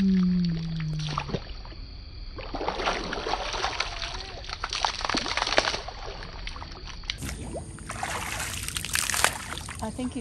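An alligator splashes and sloshes in water in irregular bursts, some close and sharp, others softer trickles, while people talk nearby.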